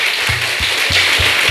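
A church congregation applauds with a dense wash of hands clapping, layered over steady low thumps that keep an even beat about three times per second.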